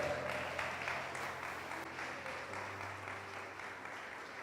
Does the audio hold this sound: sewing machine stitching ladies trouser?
no